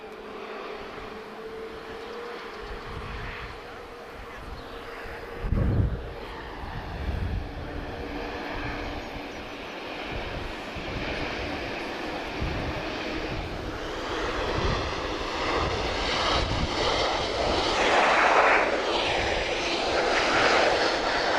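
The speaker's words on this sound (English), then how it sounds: "Another A330 pushing back, guys." An Airbus A330 jet pushes back at Lisbon Airport, its engines a steady broad roar that slowly builds, heard from a distance with one brief thump along the way.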